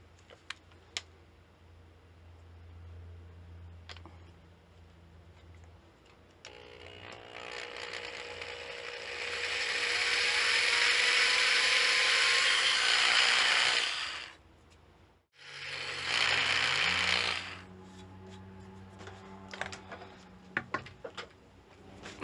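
A small 1/16-inch bit drilling a shallow pilot hole for a tiny guitar pickup screw, depth marked with tape: one steady, loud whirring burst of several seconds, then a brief second run after a short pause, with light handling clicks around it.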